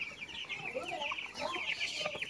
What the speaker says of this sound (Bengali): এই যে দেখেন ব্রয়লার মুরগিগুলো খাচ্ছে